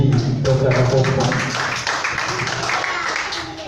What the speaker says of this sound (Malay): So sekali lagi tepukan yang paling gemuruh untuk diri Dr. Puan.